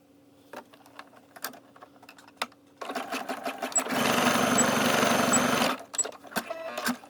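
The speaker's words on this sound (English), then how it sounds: "you're going to zigzag stitch back and forth to hold it in place" Scattered clicks and handling taps lead into a loud burst of sewing machine zigzag stitching over scrunchie elastic, running steadily for about three seconds close by before stopping and giving way to more light clicks.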